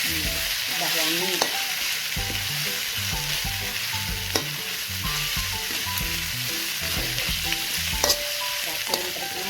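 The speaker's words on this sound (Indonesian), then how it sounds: "seledrinya juga ditumis" Celery sizzles and crackles as it is stir-fried in a pan for a Minangkabau chicken and date curry, a steady close hiss with occasional sharper pops and no talk.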